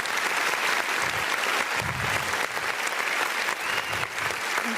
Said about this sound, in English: let's give a round of applause for them one more time